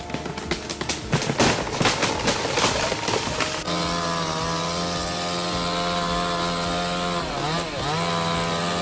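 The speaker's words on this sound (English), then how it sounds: "The sound of the saw is so satisfying as to give the logging world a new lease on life." A chainsaw cutting through a giant tree, first with choppy, rasping cuts, then settling into a loud, steady, high-revving whine that dips briefly near the end, close and without talk.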